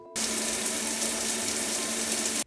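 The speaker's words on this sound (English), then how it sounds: "Next, get in the shower and you rinse off." Shower water runs in a steady, even hiss for a couple of seconds, starting and stopping abruptly, with no voices.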